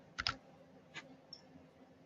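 Clicks on a computer keyboard struck with long fingernails: a quick double tap, a single tap a moment later, then a faint tick, all nearby in a quiet room.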